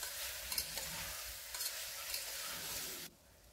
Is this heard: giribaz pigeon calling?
no